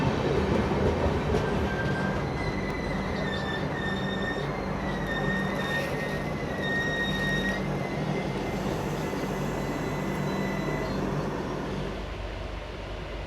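The Banda Terminus–Ghazipur City Express rolls past on Indian rails, a loud, continuous rumble of wheels and carriages with high, sustained wheel squeals threading through the middle before the noise slowly fades.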